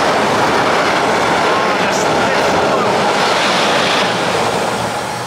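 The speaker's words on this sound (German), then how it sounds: "Unter lauten Zugbrücken." A train rumbles loudly overhead across a railway bridge, a steady roaring clatter that fills the clip and fades slightly at the end.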